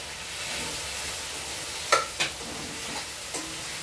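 Spice paste for a fish curry is stirred in a hot pan, a soft continuous sizzle broken by a few sharp scrapes and clanks of the spoon against the pan, close and without speech.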